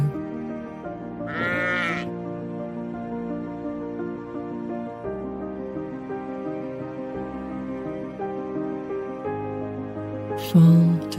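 Sheep and lambs bleating on a farm, several wavering calls overlapping at moderate distance, with a louder close bleat near the end over steady background sound.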